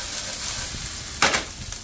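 Okra sizzles softly in a pan, a low continuous frying hiss with one brief louder crackle as the pieces are stirred.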